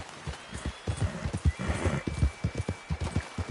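Horse galloping in Red Dead Redemption 2 video game, rapid rhythmic hoofbeats close and clear throughout, with a brief neigh mixed in around the middle.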